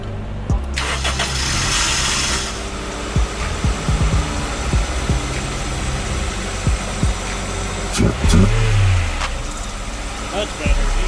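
A Honda CR-V with a B20 engine cranks over and fires, settling into a rough idle with brief throttle blips and clanks nearby, while someone talks over it.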